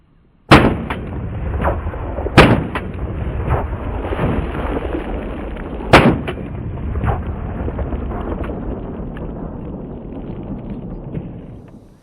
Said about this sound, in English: So let's start off with some 4-shot